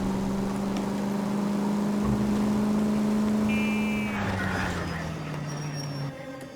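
A car driven in the game L.A. Noire, a steady loud engine drone holding pitch then dropping as it slows, with a brief horn-like tone midway and faint background voices.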